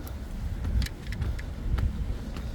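Wind buffets the microphone outdoors in low, uneven rumbling gusts, with faint scattered ticks in the background.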